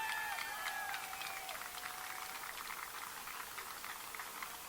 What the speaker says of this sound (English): How about a round of applause for these Thunder drummers?